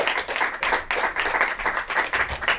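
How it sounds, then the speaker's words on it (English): An audience claps and applauds at a comedy show as a performer is brought to the stage, a dense, steady patter of many hands in a mid-sized room, with no voices. "put your hands together and bring to the stage Thomas Bottoms"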